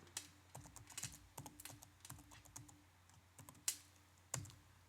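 Someone types a password on a computer keyboard, with quiet, irregular key clicks in a steady run and a couple of sharper, louder strokes near the end, like the enter key.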